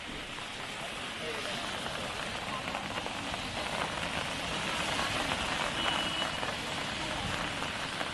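Heavy monsoon rain falling at Marine Drive in Mumbai, a dense, steady hiss of drops on the ground that stays broad and even, with a reporter talking faintly underneath.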